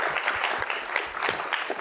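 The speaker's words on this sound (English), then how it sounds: "Round of applause, please" A short, dense burst of audience applause at a youth summit, loud and continuous throughout with no pauses.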